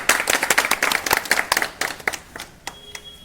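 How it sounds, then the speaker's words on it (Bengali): Loud applause from a crowd at a free medical camp, dense rapid clapping that gradually thins and fades toward the end. "জোরে হাততালি।"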